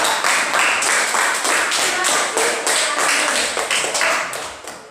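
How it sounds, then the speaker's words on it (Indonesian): Steady applause from a room full of people clapping for a group presentation, dense clapping that holds strong for several seconds before easing slightly at the end. "tepuk tangan untuk kelompok"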